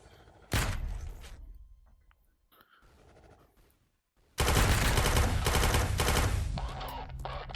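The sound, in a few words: assault rifle gunfire in VR game Quantum Threshold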